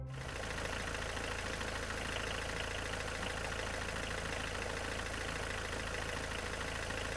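A cartoon tractor's engine running steadily, a continuous low idling chug that holds at an even level for several seconds with no voices.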